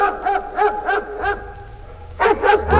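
A dog barks as a sound effect in a narrated Andersen fairy tale: a quick run of five or so sharp, close barks, a short pause, then a few more, with no voice over them.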